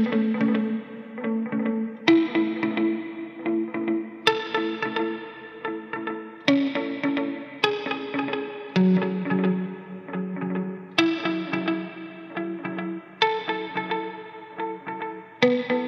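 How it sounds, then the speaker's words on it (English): Ambient electric guitar chords played through ping pong delay and reverb, each strum struck about every two seconds and left to ring into a dense, echoing wash that fills the gaps between chords, with no talking. "Let's add reverb."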